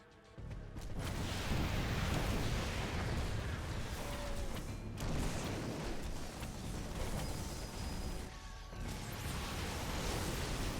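Vikings fire in a StarCraft 2 Terran versus Protoss match amid a dense, continuous wash of explosive booms and weapon fire that stays loud throughout, with brief dips in the battle noise.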